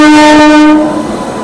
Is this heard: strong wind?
no